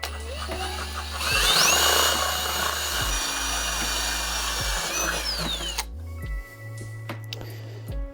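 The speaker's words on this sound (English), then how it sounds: "Now that that's straight, I can drill the second hole." A power drill drilling a hole during fabrication work on a Kawasaki Z400 motorcycle whirs up to speed, runs steadily for several seconds with a rising whine, then winds down; a low motor hum follows.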